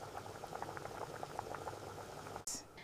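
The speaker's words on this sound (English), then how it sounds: "Today we are boiling fresh palm fruits. You need a vigorous boil to extract the rich oil." A pot of fresh palm fruits bubbles and churns in a vigorous boil, with popping bursts over a low rumble, ending in a sudden sharp hiss.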